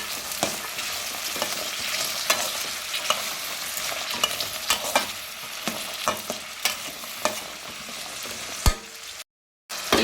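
Peas curry seasoned with salt and turmeric frying in a pan, with a constant sizzle broken by repeated scraping stir strokes at an uneven rhythm, close and fairly loud, then a brief silent gap near the end.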